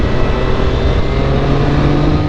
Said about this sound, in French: je suis à 6000 tours et la moto se bouge bien